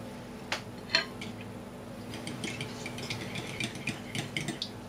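A spoon stirring a mixture of grated parmesan, garlic and parsley in a bowl, a couple of sharp clinks followed by a run of soft, uneven scraping and tapping, close and without speech.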